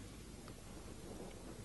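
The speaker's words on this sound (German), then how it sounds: "Es regnet noch immer." Steady rain falls in a radio drama, a faint, even wash of drizzle and patter with a low rumble beneath, heard alone without voices.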